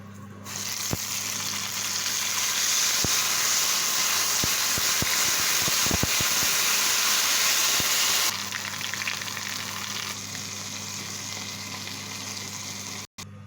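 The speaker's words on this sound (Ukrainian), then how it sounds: "Олійка вже закипіла, димить аж." Dough balls fry in smoking-hot oil, giving a loud, steady sizzle close by. A few sharp pops and clicks break through the hiss partway through before it settles.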